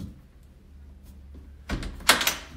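Quiet room in a mobile home, then a back door handle rattles and the locked door jolts in its frame a couple of times without opening.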